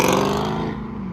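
A Dodge Hellcat engine at a highway car meet, a brief, close growl with a strong tone that sags slightly in pitch as it fades.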